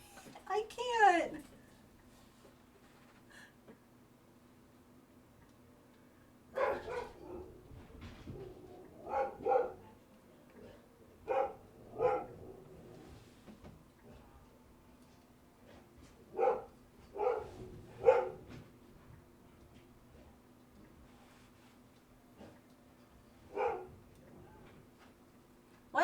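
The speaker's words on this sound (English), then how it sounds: "That sounds like the elderly beagle bark." An elderly beagle barks in scattered single woofs and short bursts at moderate distance, spread across a quiet room with low hum, while a person talks between the barks.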